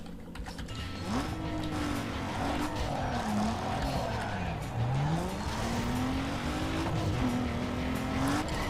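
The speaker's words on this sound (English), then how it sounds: "Alright, so I got a drag race here." Drag race cars roar in Need for Speed Underground 2, a steady engine drone with a rising and falling whine through gear changes, tire squeal mixed in, continuous and fairly close.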